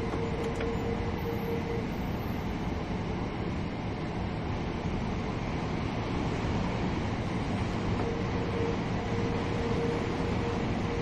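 A local Southern Railway train in Train Sim World 2020 rumbles along at steady speed, a continuous interior roar of wheels and motors with faint tonal hum, no voices.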